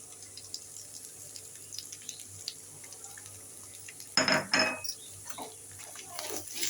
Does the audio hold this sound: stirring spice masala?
yes